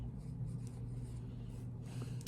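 A carpenter pencil scratches across paper in short, quiet strokes, close and soft against a low steady hum in the background.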